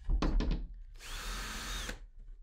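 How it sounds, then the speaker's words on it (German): A power drill bores two holes into a wooden jig used for routing finger joints: a short burst of drilling, then a longer steady run of about a second, close and loud, with no talking. "Dazu brauche ich mal zwei Löcher hier oben drin."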